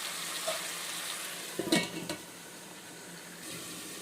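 Vegetables for a meatless dalcha softening in hot oil in a pot, giving a steady low sizzle with a brief clatter of stirring partway through, no voices.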